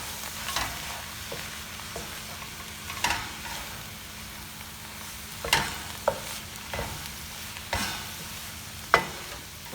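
Ground cumin and coriander toast in a pan for saag paneer, a soft continuous sizzle under repeated scraping strokes of a spoon, with sharper clacks against the pan every second or two.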